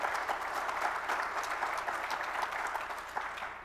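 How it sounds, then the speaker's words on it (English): An audience at an Oxford-style debate claps continuously at an even level, a full round of applause heard from some distance. "A round of applause."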